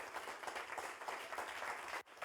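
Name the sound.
congregation applauding in church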